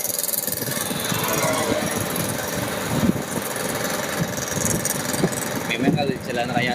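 An old motorcycle engine runs at idle on a road, a steady rough rumble with broadband road noise. It continues throughout at moderate loudness, with faint indistinct voices in the background.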